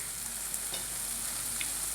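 Tomatoes frying in a pan for sambar give a continuous bright sizzle with faint stirring taps, close and steady with no one talking.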